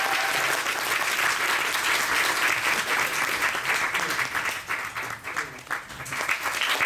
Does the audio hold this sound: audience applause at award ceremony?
yes